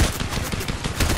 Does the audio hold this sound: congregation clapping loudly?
no